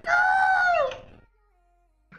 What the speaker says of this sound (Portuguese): Pô, tem um galo aqui em casa agora.